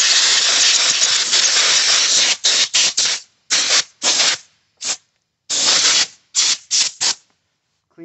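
Compressed air hissing in loud, steady blasts to blow debris off 2-stroke engine equipment and its cooling fins, first one long continuous burst, then a series of short, sharp spurts with brief silences between.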